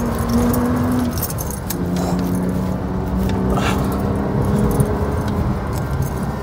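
A Porsche Cayman S speeds up along a country road, its engine note rising as a steady drone over continuous road and cabin noise, heard from inside the car without talking.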